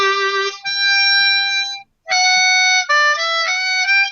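A harmonica in C plays a melody, reaching for the 5 overblow. Sustained reedy notes come in two phrases split by a brief gap, close and clear with no talking.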